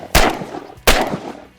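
Two loud shotgun blasts during a waterfowl hunt, each a sharp close boom followed by a short fading tail, spaced under a second apart with no talking.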